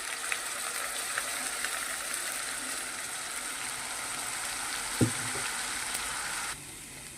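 Masala and ginger-garlic paste frying in hot oil for a chicken and peanut gravy curry, a steady close sizzle running throughout with a single sharp clink near the end before it cuts off.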